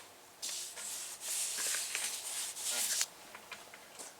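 Close, steady rubbing and swishing of a cloth wiping grease and oil off a car wheel rim, in several long strokes with short pauses, no voices.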